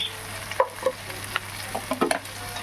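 Vegetables with chili, coriander and cumin powder stirred in a pan, soft sizzling underneath with a few scattered scrapes and clinks of the spoon, fairly quiet and close.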